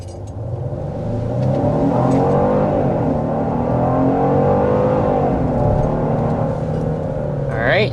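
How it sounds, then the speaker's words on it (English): A Genesis GV70 SUV accelerates hard, its engine note climbing and swelling steadily under continuous road and wind noise heard from inside the cabin. "But first, we need to start with a hard acceleration."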